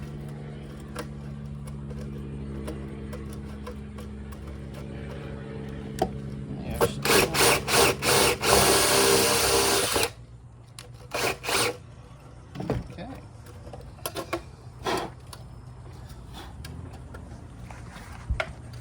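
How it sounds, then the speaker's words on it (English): A 3/4-inch unibit step drill bit enlarges a hole during a remote installation, giving a loud, harsh burst of grinding for about three seconds, followed by several short drilling pulses over a low steady hum. "just enlarge that hole a bit. Luckily for me, this is a 3/4 unibit"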